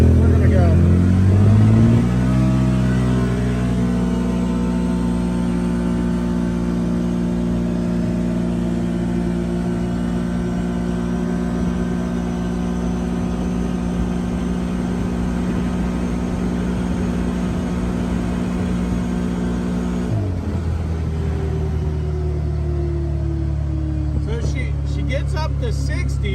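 A CFMOTO UTV fitted with a clutch kit pulls away from a stop, its engine note rising in a smooth, steady climb that stays loud throughout before dropping in pitch near the end.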